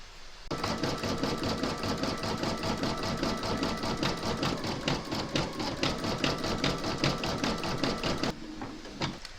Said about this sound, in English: you're now going to stitch round number 7, and that's going to do the satin stitch border around the sole